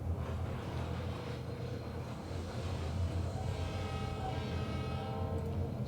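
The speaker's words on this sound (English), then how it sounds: "I like the sounds on these locomotives." Locomotive sounds from a train simulator game, a steady low engine rumble with rising tonal whine and horn-like harmonics, continuous and fairly loud throughout.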